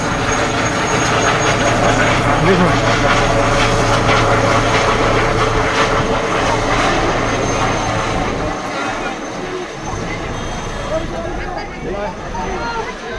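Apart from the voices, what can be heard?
Amit Shah's helicopter departing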